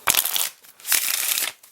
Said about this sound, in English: Riffle Shuffle, let's see if this differs a little bit